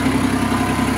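A tractor engine idles steadily without smoke or faults, a close, even mechanical drone with a low pulsing rhythm throughout the one-second stretch.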